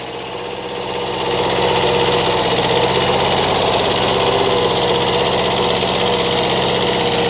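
A Kubota tractor pulling a potato digger runs at a steady, loud drone, rising at first and then holding an even rumble close by.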